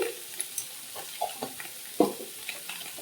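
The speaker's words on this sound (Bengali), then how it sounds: "সেই জন্য কড়াতে তেল দিয়ে সোয়াবিনটা দিয়ে দিয়েছি" Soybean chunks in oil in a kadai, with soft sizzling under a few light clinks and scrapes of stirring, one louder knock in the middle, all fairly quiet and close.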